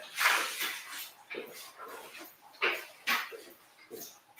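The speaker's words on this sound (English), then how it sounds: "that's my dog slapping up the water." A dog laps and slaps at water in short wet splashy bursts, several irregular splashes at close range, fairly quiet.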